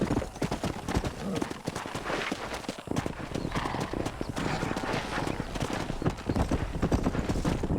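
A horse gallops in the Western video game Red Dead Redemption, with rapid rhythmic hoofbeats pounding throughout, a snort or whinny mixed in, and game ambience and voices around them.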